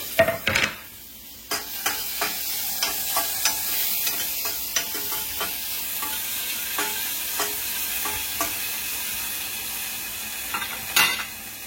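Chopped onions and tomatoes fry in a steel pan, a steady sizzle broken by repeated scrapes and clinks of a spoon stirring, close and fairly loud, with no voices.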